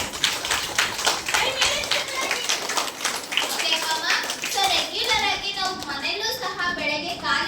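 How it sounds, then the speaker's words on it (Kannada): People clap loudly in a rapid run of sharp, repeated claps that fill the first half, then children's voices and chatter take over. "ಜೋರಾಗಿ ಚಪ್ಪಾಳೆ."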